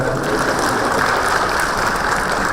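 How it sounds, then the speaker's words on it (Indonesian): Steady, dense audience applause at a symposium gathering for an eye clinic, a continuous wash of clapping that stays loud throughout without pause. "Tepuk tangan buat istri saya."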